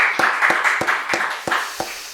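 A church congregation claps together in thanks during a Sunday service, giving a short burst of roughly a half-dozen distinct hand claps at an uneven rhythm, close and moderately loud, with no talking over it.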